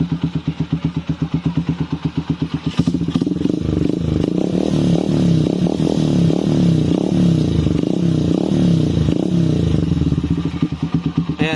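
Honda TMX 125 Alpha motorcycle engine cranking, starting, then idling nearby with a loud, steady, clattering single-cylinder thump.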